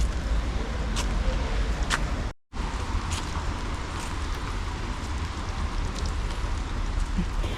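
Steady rain falls outdoors in autumn, giving a constant, close hiss of drops on surfaces with a brief cut partway through.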